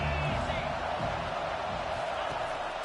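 A football stadium crowd roars in a steady, dense wash of cheering that fills the whole stretch, with no break in the noise.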